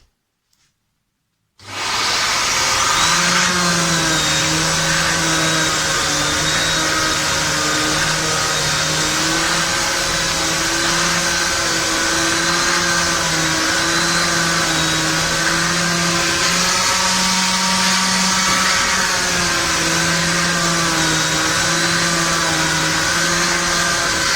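An electric sander with 220-grit sandpaper starts up on wood and runs continuously with a steady whirring drone and gritty rasp, loud and close, with no talking.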